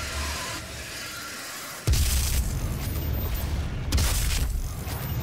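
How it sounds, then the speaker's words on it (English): Gauss cannon firing in the Doom video game: two heavy, sudden booming blasts a couple of seconds apart, each followed by sustained loud rumble, with no talking. "Oh, you guys aren't worth using my Goss cannon on."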